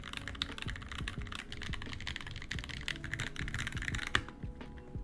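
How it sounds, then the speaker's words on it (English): Fast, continuous typing on an NK65 mechanical keyboard, a dense patter of close, crisp key clacks with occasional heavier thocks. It keeps going steadily for several seconds with no speech. "let's do some typing tests, shall we?"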